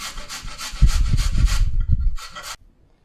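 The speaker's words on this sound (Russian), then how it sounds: "Натираем ее на самой мелкой терочке." A carrot is rubbed briskly against the finest side of a kitchen grater, a close rapid rasping stroke rhythm that stops with a final short scrape.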